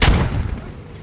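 A 30mm autocannon on an armoured personnel carrier fires in the military shooter Squad, opening with a heavy boom that rolls into a rumbling tail. It is loud and close and lasts about a second.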